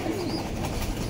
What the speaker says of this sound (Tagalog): Bali ito yung mga bagong kalapati